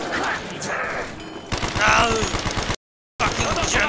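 A German weapon in Call of Duty: Black Ops fires rapidly in a loud burst of automatic gunfire over dense in-game noise, with a short dropout to silence near the end.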